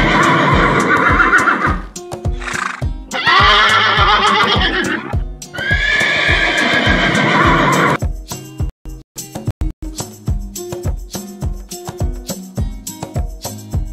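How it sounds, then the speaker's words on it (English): A loud, close horse neigh repeats in long whinnying bursts, followed by brisk rhythmic hoofbeats clopping along. "Horse. And the sound of the horse is"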